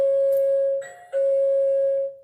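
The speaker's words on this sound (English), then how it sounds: "So yeah, that's the doorbell." A loud electronic doorbell rings close by: a sustained tone, a brief break, then a second long ringing tone that fades out.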